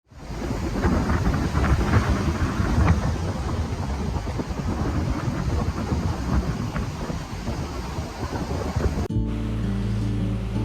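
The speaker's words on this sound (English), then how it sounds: "being down here on the beach makes it very, very windy" Strong wind on a beach roars and buffets against the microphone over the rush of breaking waves, loud and continuous, then the sound cuts abruptly to a quieter hum.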